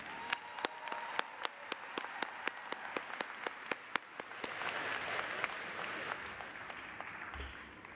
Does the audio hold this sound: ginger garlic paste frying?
no